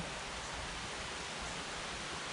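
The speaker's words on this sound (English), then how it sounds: "Coming down pretty good drizzle now." A steady, even hiss of light rain falling, soft and continuous with no pauses and no voices.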